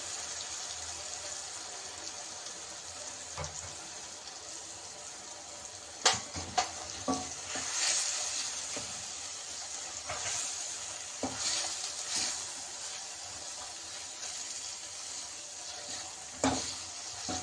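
Onion paste for chole masala fries in a pan with a soft, steady sizzle, broken by scattered stirring scrapes and clinks of a spoon against the pan, with no voices.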